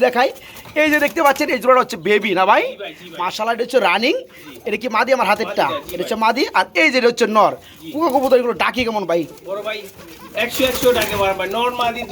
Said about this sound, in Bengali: এগুলো কি এত এত কবুতর একসাথে